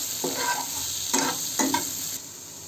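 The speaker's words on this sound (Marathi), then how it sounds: "आपण त्याच्यामध्ये आता लाल तिखट मसाला घालून घेऊ। 1 ते 2 मिनिटच परतवून घ्या।" Softened tomato mixture with red chilli masala sautéing in a pan for tomato chutney, a close steady sizzle with three distinct bursts of spatula scraping and stirring, no voices.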